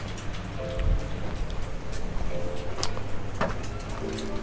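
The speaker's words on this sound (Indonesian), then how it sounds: "karena di luaran juga lagi hujan" Steady rain falls outside a quiet shop, a constant broadband patter filling the whole stretch with faint tonal hums and a few soft knocks beneath it.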